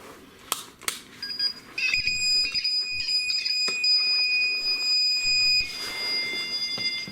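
A REM pod ghost-hunting device set on a staircase inside a reportedly haunted former orphanage sounds its alarm, a steady high electronic tone with overtones that starts abruptly and keeps going, with scattered knocks and handling noises around it.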